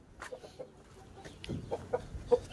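Soft naked neck hen clucks and short murmuring calls come in scattered bursts, close by and fairly quiet, with a faint backyard farm background.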